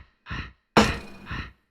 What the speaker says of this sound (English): this first clip is my son breathing. I have the repeat function and pitched it down